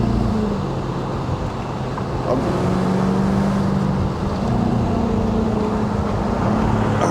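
A 2024 Jaguar F-Type 75 Convertible P450 V8 with a high-pitched, shrill engine and exhaust note, heard as a steady, loud drone from inside the car while driving, with a brief dip partway through; no talking.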